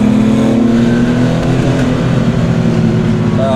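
A 1985 air-cooled Porsche 911 3.2 with a Dansk sport muffler revs hard, its exhaust rising in a loud, close, continuous snarl with no talk over it.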